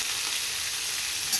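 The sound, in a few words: chillies, curry leaves and dals frying in oil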